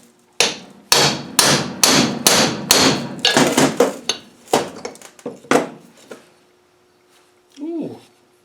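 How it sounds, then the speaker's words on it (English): A hammer taps a big socket placed on a 127-type 60 amp alternator being stripped, about a dozen sharp metallic blows in a steady rhythm that grow lighter and more spaced out before stopping. A brief voice sound follows. "I wonder if I just got a big socket here and tap it down to see if it is moving."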